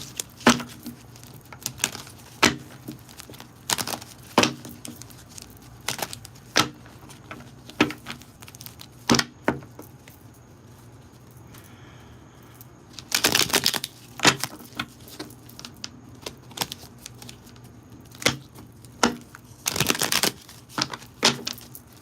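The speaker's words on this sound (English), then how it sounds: "I'm shuffling the hell out this card." Playing cards being shuffled in a series of quick, crisp riffling bursts separated by short pauses, close and fairly loud, with no voices.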